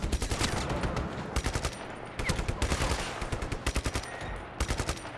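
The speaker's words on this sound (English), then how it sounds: "You're shooting me from up here, somewhere." Rapid bursts of automatic gunfire in the action game Just Cause 3, sharp repeated cracks in several volleys with short pauses, loud and close.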